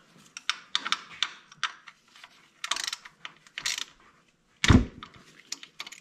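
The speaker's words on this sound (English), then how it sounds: "The socket wrench, the ratchet." A socket wrench ratchet clicks in quick bursts of close, crisp ratcheting while an oil filter is changed during a major service on a 2019 Polaris Sportsman 850, with a heavier clunk near the end.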